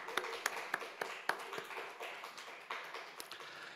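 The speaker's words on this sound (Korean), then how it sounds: "그럼 우리 하나님께 영광의 박수 한번 올려볼까요?" Scattered, faint handclaps from a church youth-service audience at Easter, sharp separate claps in a loose rhythm rather than a dense ovation.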